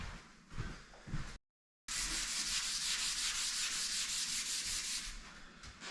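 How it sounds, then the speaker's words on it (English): Wood furniture in an abandoned house is sanded by hand, a steady, close-up rhythmic scratching rub that briefly stops and then resumes continuously. "I'm gonna go ahead and do the sanding process through all of them"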